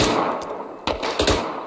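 Arma 3 video game gunfire during a jungle infantry section engagement: a few sharp bursts of shots cutting through a steady background hiss, heard alone without speech.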